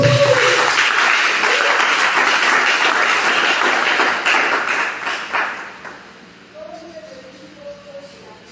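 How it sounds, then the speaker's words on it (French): A church congregation applauds loudly for several seconds, the clapping then thinning and fading out while a voice speaks over the tail end. "Est-ce que tu peux acclamer pour toi-même?"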